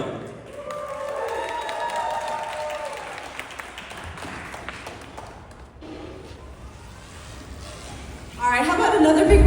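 An audience at a theme park's outdoor stage claps after a motorcycle freestyle stunt show preview, a soft scattered spatter of applause with people talking over it, swelling into louder clapping near the end.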